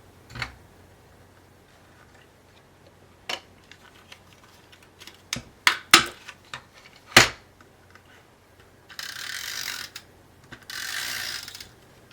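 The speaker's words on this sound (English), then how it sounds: "Got some green here that we're going to punch the same way that we did before." A paper punch cuts through green cardstock for a holiday card, giving several sharp mechanical clunks and clicks close by, followed by two longer rustling, scraping stretches as the punched paper is handled.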